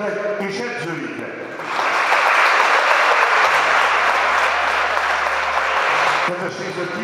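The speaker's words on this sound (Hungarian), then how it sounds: "Egy nagy tapsot hadd kérek még egyszer a versenyzőknek és edzőiknek." A sports crowd at a youth boxing tournament breaks into sustained applause that swells to a loud, dense ovation and holds for several seconds. Speech is audible over it.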